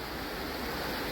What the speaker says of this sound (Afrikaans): Maar die rivier wat so hard is actually amazing.